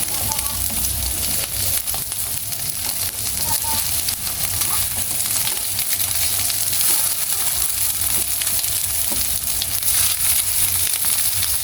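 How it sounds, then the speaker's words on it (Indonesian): Chicken fillet sizzles loudly on a grill pan greased with margarine, a dense continuous hiss and crackle close up that holds steady throughout. "Lalu panggang dengan grill pan atau teflon yang dasarnya udah diolesin margarin ya."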